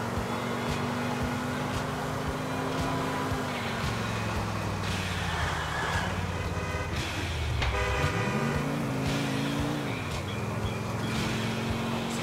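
A car drives through rain in Grand Theft Auto IV. The engine drones steadily, its pitch rising and falling as it revs, with a faint wash of road and rain noise and no speech.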